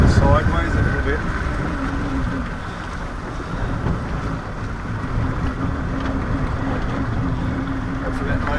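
Outboard boat motor running near moorings during a sunk-boat recovery, a steady droning hum under wind noise with voices talking across it.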